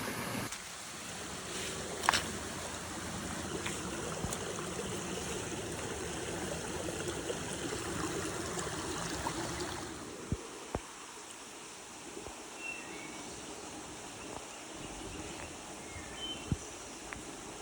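A creek beside a dirt path flows with a steady, low rushing trickle that dominates the first half, then drops back to a softer murmur with faint insect buzzing and a few scattered clicks and footsteps nearby.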